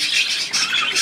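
A pet budgerigar squawks and chatters in shrill, bright bursts that run loud and continuous through the whole moment, very close by.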